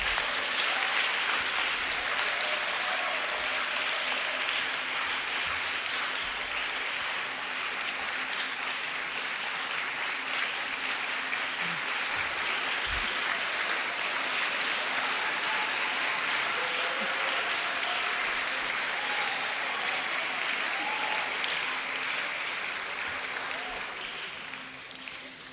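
A lecture audience gives prolonged applause after an inaugural university lecture, the steady crowd clapping going on for about twenty-five seconds before fading at the end.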